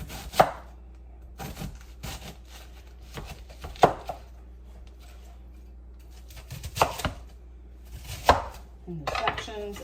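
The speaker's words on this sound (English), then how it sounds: "I'm just going to chop my cabbage here up." Cabbage is chopped with a knife on a board, producing several loud, separate thuds with crunchy tails in an irregular rhythm and quiet pauses in between.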